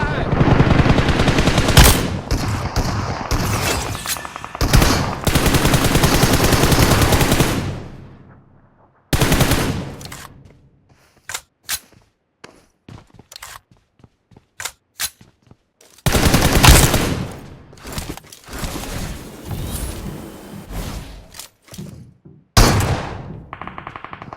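Gunfire from the BGMI battle royale game: long bursts of rapid automatic fire alternate with scattered single shots and short volleys, loud and close, with brief quiet gaps between exchanges.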